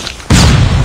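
A grenade blows up in Call of Duty Mobile during a pro scrim match, one sudden loud close boom that stays thick and rumbling to the end, no voices over it.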